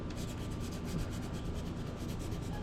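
Sandpaper rubs steadily back and forth over a custom fishing rod blank, smoothing out gouges in a close, continuous raspy scratch.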